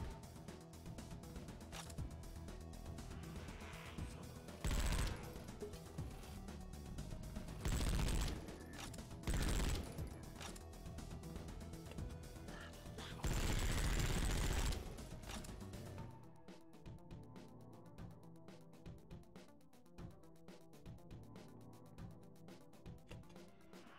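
Gunfire from the video game Project Warlock, rapid shots with several loud blasting bursts over game music, then quieter mechanical clicks and shots toward the end.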